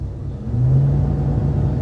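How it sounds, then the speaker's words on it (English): A car engine at a public auto auction rumbles steadily and rises briefly in pitch as it is revved, then settles back to a low idle. "let's give it a couple revs"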